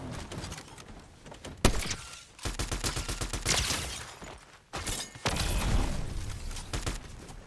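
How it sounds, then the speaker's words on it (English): Fortnite gunfire crackling in rapid volleys of shots at mid distance, loud bursts broken by short pauses amid in-game action noise. "Shots over there."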